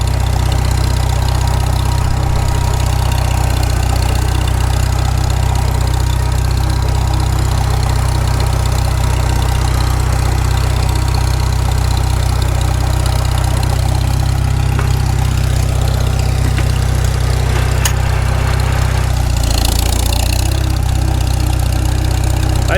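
A freshly rebuilt Farmall Super M tractor backs up in reverse, its engine giving a steady, loud, low rumbling drone that continues unbroken with no voices.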